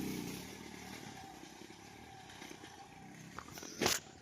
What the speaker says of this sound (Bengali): ভাই কত জোরে বাইক চালাই দেখুন